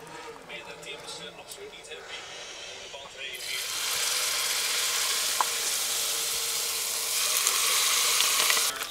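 Corn fritter batter hits hot oil on a powerful gas camping stove in France, bursting into a loud, steady, close sizzle of frying that continues to the end, with a person talking over the cooking.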